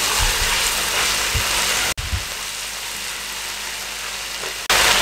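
Boneless chicken cubes frying in a pan, a loud, steady hiss and crackle like rain, continuous throughout with two brief dips.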